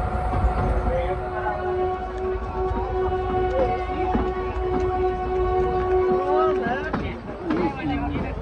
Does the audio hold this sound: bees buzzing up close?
no